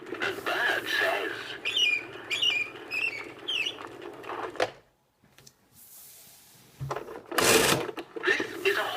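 A 1989 Mattel See 'n Say farm toy plays a recorded bird call, a series of short, bright chirps with a chattering pattern, heard up close. Mechanical clicks and a rattle follow after a brief pause.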